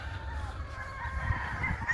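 Several hens clucking and calling together in a yard, steady and moderately close, with a low rumble of background noise throughout.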